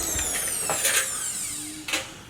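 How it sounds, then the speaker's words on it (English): A screw gun backs screws out of metal studs framing a commercial door opening: a few short, high whirring bursts with rising and falling pitch, close by over a steady background hum. "we need screw gun to pull out these screws"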